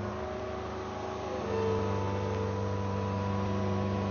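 A Kubota SVL compact track loader's diesel engine drones steadily at full RPM, a loud close tonal hum that steps up slightly in pitch and level partway through, then holds constant, with no speech.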